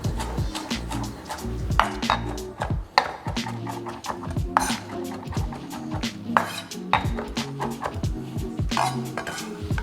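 Parsley chopped with a knife on a board, a quick run of sharp, evenly spaced knife strikes with the odd clink, close and clear with no talking.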